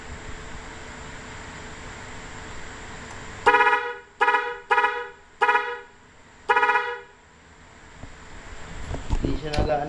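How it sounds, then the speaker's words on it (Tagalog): A motorcycle horn beeps five times in short bursts, loud and close, over a steady background hum, with some rustling noise afterward. "Busina."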